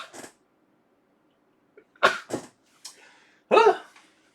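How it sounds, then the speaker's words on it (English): A person sneezes several times in short, sharp bursts, one early and then a close cluster later, each sneeze loud and near against a quiet background. "Those are sneezes."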